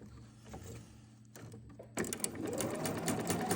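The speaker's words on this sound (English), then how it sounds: "So these will actually sew quite a bit faster with the more gentle curve and less bulk to manage." A sewing machine stitches curved quilt pieces, starting with quiet handling and a brief whir, then settling into a steady, close, fast mechanical hum of stitching.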